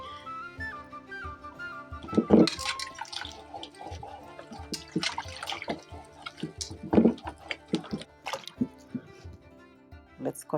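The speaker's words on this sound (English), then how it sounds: "So I'm gonna get some water to wash the pumpkin." Tap water running and splashing while a pumpkin is washed, with irregular drips, splashes and clatters near and fairly soft, some louder bursts.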